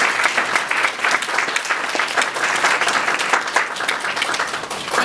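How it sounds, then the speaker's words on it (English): Applause from an audience welcoming a speaker to a presentation, steady dense clapping throughout, fairly loud and close with no talking over it. "Please join me in a warm welcome to Deb Chaney."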